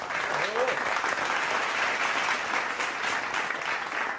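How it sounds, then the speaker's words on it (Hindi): A live audience at a Hindi comedy and poetry stage show applauds in a sustained, even burst of clapping, with a brief voice heard at the start. "इस पे एक और ताली हो जाए।"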